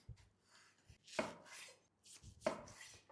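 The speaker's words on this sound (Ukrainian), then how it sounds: "І тепер я нарізаю на ось такі порційні шматочки." Two crisp knife cuts through a meat roll on a board, slicing it into portions, each followed by a soft sliding rasp, quiet and close, with no talking.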